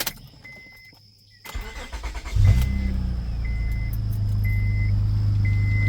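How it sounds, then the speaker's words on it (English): A car's starter cranks and the engine catches and settles into a loud, steady idle close by, preceded by a few seconds of quiet clicks and an intermittent chime. "let's go ahead, get her started up"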